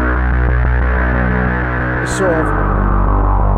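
A deep bass synth drones steadily through a Ventris Dual Reverb pedal set to spring reverb. Someone speaks briefly over the sustained, humming tone.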